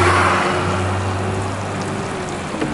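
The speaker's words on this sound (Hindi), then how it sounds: "सर हमारी गाड़ी में बारिश हो रही है" Steady patter of rain drumming on a surface close by, heard from inside a car in Pakistan, with a low engine hum underneath and no speech.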